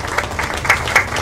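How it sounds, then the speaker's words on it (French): Brief burst of audience applause, a dense patter of clapping with a few sharper claps standing out, fairly close and loud, with no talking over it. "On acclame bien fort, bien sûr."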